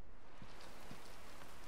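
Steady rain in the video game Generation Zero, a soft continuous pitter-patter wash with a couple of faint low thumps, heard alone without talk.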